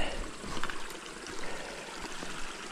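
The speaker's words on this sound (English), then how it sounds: "Creek crossing." Creek water flowing at a forest crossing, a steady close rushing and trickling wash that fills the whole stretch without pause.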